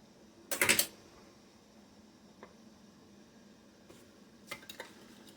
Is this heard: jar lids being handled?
yes